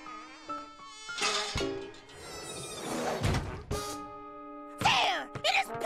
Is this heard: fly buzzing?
yes